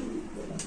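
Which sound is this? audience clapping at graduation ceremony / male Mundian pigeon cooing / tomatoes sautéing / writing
male Mundian pigeon cooing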